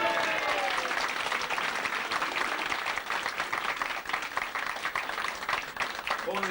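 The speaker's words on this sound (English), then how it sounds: "So will you give her a big round of applause?" Loud, dense applause and clapping from a bar audience fill the whole stretch at an even level, with a brief voice surfacing right at the end.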